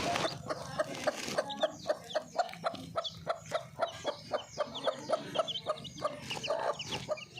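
A country hen clucks in a steady, rhythmic series close by, with thin peeping from newly hatched chicks scattered around her, quiet and with no talking.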